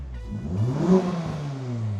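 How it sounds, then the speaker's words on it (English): A Honda Civic Type R engine, cold after just a couple of seconds of warm-up, revs up briefly and settles back, a single mid-pitched surge of rumble close by. "Always nice to rev it on a cold engine."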